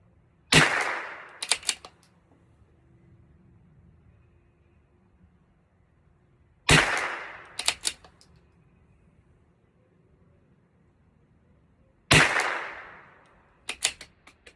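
A rifle fires three sharp shots at a target at spaced intervals, each a loud crack with a short echo tail, followed by quick metallic clicks of the action.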